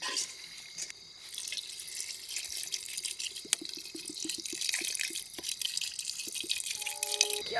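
Water runs and splashes into a chicken curry pot at a cold winter forest campsite, a faint steady pour with small drips and light metallic clinks, no talk.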